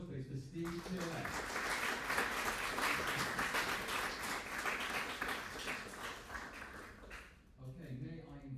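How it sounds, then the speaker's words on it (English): Applause for Steve Tillett at a world peace forum, a broad, sustained burst of clapping that swells and holds for several seconds before fading, with a voice briefly heard at the start and again as it dies away. "Can I have a round of applause, please, for Steve Tillett?"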